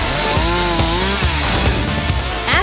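A chainsaw buzzes steadily and loudly up close while cutting through overgrown trees, its engine note wavering with load and small bursts as the chain bites the wood.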